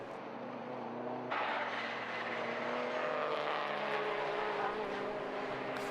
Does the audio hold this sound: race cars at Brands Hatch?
yes